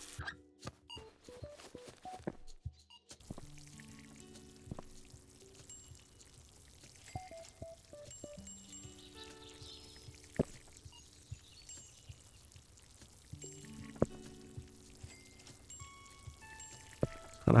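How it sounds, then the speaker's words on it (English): A watering can pours water onto plants in Plant Nursery Simulator, a video game, in short splashing bursts separated by quiet gaps and small clicks. "we'll go fill up the watering can"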